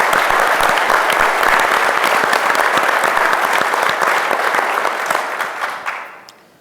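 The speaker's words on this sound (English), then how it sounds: "So a round of applause to the sponsors," A conference audience at a DNN World closing panel gives the sponsors a round of applause, the full-room clapping loud and steady before thinning out and fading away at the end.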